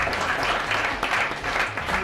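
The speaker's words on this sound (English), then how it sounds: "So I think for that you deserve a round of applause." Audience applause at an awards event for a Nigerian students' competition, a dense, steady patter of many hands clapping throughout.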